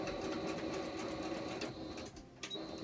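A sewing machine stitching a pleat on a fabric face mask, its rapid mechanical whirring running steadily and close, then slowing and briefly pausing near the end, with no voices.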